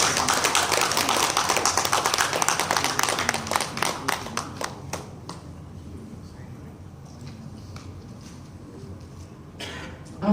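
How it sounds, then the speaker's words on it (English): An audience applauds at a ceremonial foundation signing in Cebu. A dense burst of clapping fades over several seconds into scattered claps and room murmur, with a few late claps near the end. "And I think that deserves our loud round of applause."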